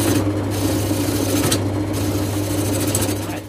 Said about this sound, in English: So let's try and get this end done before it shakes the lathe to bits.